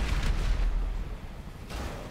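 GTA V gunfire on a modded parkour map comes as loud, broadband bursts and booms over a steady low rumble, heaviest at the start and again near the end.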